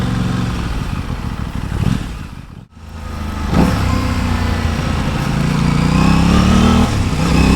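Aprilia RS660 Stars and Stripes limited-edition motorcycle riding through traffic, its engine loud and close, revving and climbing in pitch, with a brief sharp dip to near silence partway through before it pulls away again.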